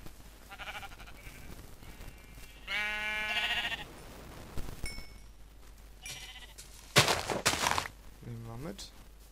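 Sheep in the Minecraft video game bleating several times, short wavering baas at moderate distance, mixed with other faint game sounds and a sharp burst near the end.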